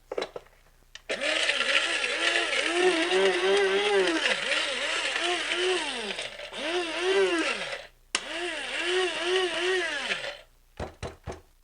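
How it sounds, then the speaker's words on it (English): Blender grinding cashews to make cashew milk, a loud, steady whirring roar with a wavering pitch that runs for several seconds, stops briefly, restarts, then ends in a few short pulses. "so I'm going to grind them just a little bit more"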